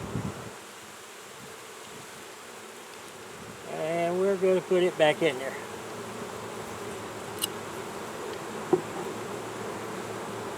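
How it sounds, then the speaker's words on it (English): Honey bees, worker bees and drones, droning softly at an open hive during a fall honey flow, a steady faint buzz with a brief louder burst of close buzzing midway and someone talking quietly. "there's drones here, there's worker bees here. This is worker bees down here."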